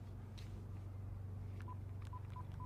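Short electronic keypad beeps from an old mobile phone in a video game sound at a steady pace over a low continuous engine-like hum.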